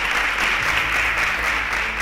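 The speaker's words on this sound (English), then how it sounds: "A round of applause for them." Steady round of applause from a quiz show audience, a dense, even wash of clapping held at constant loudness throughout with no voices over it.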